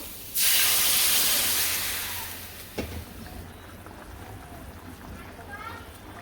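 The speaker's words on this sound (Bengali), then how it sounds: "এখন জল দিয়ে দিই কারণ আলু আগে ভেজে নিছিলাম তারপরে কপিও আগে একটু ভেজে নিছি" Water poured into a hot pan of fried potatoes and cauliflower bursts into a loud hissing sizzle of steam that slowly fades over a couple of seconds, followed by a single clank and quieter simmering.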